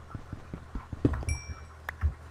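Squid footsteps in Minecraft, a string of soft, quick thudding steps in an uneven rhythm, fairly faint and close, with a short high tone and a brief chirp over the top.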